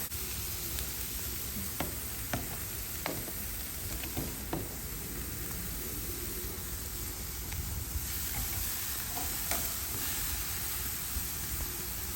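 Fatty Vietnamese pork chops sizzling on a very hot grill, a loud, continuous hiss and crackle with occasional sharp pops and spits, close up and without talk.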